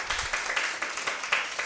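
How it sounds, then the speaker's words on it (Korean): Audience applause after an architecture lecture in Korea, a short burst of scattered clapping from a small crowd, close and fairly even, fading only slightly over under two seconds. "박수 한번 드릴게요"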